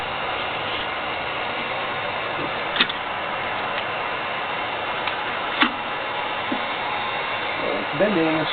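A heat gun blows a steady, loud stream of hot air onto a sheet of mylar for an electrostatic telescope mirror. Faint clicks and taps occasionally break through the constant airflow.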